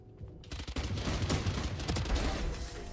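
Rapid gunfire rattles in a video game, a dense continuous burst of shots starting abruptly after a brief quiet moment and holding loud to the end.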